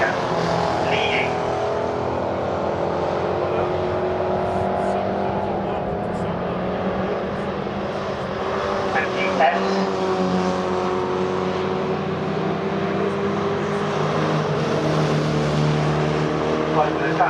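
MG racing cars at Oulton Park's Island circuit drone past on the track in a continuous, layered engine roar, several cars blending together at moderate distance while a commentator talks over them.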